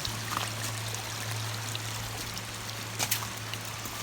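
Low water trickles over shallow rapids at Snoqualmie-area Snoquera Falls, a soft continuous wash of moving water heard close and fairly quiet, with no talking.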